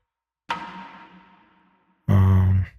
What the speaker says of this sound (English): Also for accents, I have like these bell sounds.